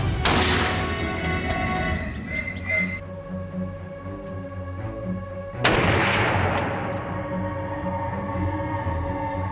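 Two loud gunshots ring out during an outdoor wild boar hunt, each a sharp crack followed by a long, rolling echo; the first comes right at the start and the second several seconds later.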